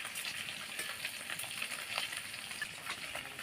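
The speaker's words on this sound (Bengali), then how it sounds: "খুব একটা বেশি ভাজবো না, এপিট ওপিট করে দিয়ে নামিয়ে নেব" Eggs frying in a pan give a steady, close sizzle with soft crackling and occasional spatter pops, continuous and fairly quiet throughout with no voices.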